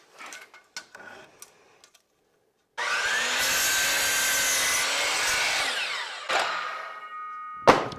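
A power saw cuts soffit pieces for a garage exterior, one sustained loud cutting burst of about four seconds following a few light knocks and handling sounds, then a brief tap and clunk near the end.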